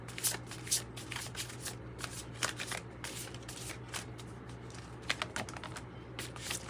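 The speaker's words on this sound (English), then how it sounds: "So I'm just going to split the deck in two because it's huge." A large mixed oracle card deck is shuffled and split in two by hand, giving quiet, close, rapid riffling and slapping bursts with short pauses over a soft steady hum.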